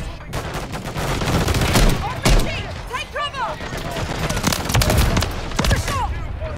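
Sniper rifle fire in Modern Warfare 3, heavy sharp shots cracking repeatedly over several seconds amid dense game combat noise, with someone talking loosely underneath.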